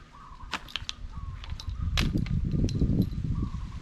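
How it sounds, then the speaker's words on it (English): Rubber bands on a spearfishing speargun are pulled back to load and cock it, giving a few sharp snapping and stretching sounds close by, followed by denser rubbing and handling noise. "You gotta pull the rubber bands back and that loads"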